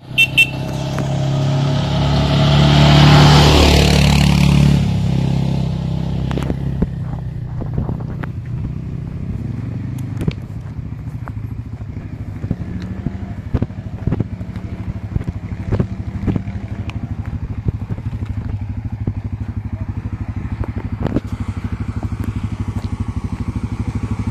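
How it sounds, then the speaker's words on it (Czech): Car and motorcycle engines roar close by on a road at Promajna, Croatia, one loud pass swelling and fading in the first seconds, then quieter traffic rumble with scattered clicks and crackles, and no talk. "Ale najednou jsem zaslechl motory zblízka."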